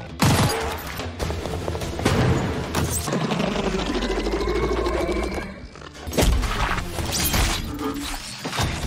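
Dense rapid gunfire rattles in sustained bursts against monsters in a film action scene, loud and continuous with heavy impacts and a low rumble, no talking.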